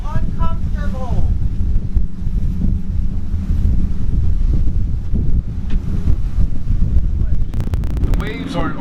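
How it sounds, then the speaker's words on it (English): Wind and waves buffet a boat at sea in uncomfortable conditions with about two-foot waves over five-foot swells, a steady loud rushing roar with water sloshing throughout, and a voice heard briefly at the start. "The waves aren't altogether that bad, maybe 2 footers or something, but we have at least 5-foot swells"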